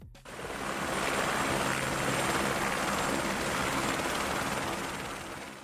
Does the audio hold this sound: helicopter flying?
yes